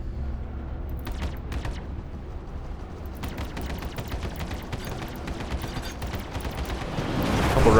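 Spaceship guns firing in the Star Citizen video game: repeated sharp shot bursts over a steady low engine rumble, loud and close, with the roar swelling at the end.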